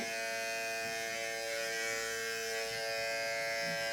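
An electric hair clipper buzzes steadily and close up during a high buzz fade haircut, a continuous even hum with no talking.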